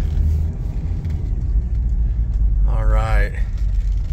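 A built 1997 Toyota Land Cruiser FZJ80 with a solid axle pulls out of a parking lot. Its engine gives off a low, steady rumble close by, and someone speaks briefly over it.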